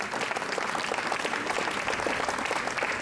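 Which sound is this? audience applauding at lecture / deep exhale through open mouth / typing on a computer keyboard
audience applauding at lecture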